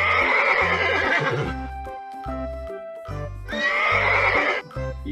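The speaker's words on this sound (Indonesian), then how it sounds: "Wow, ternyata ini kuda" A horse gives two loud, close whinnies, each a bright wavering neigh separated by a quieter stretch with low thumps and faint clatter.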